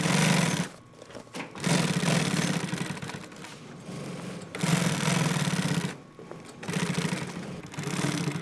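A sewing machine stitches binding onto an EDC bag with a loud, steady close whirring rattle in long runs, broken by brief pauses where the stitching stops, and no voices.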